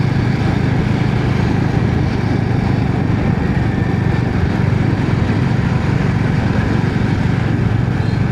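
A Royal Enfield motorcycle runs steadily along a road, its engine a constant loud rumble mixed with wind noise and no pauses.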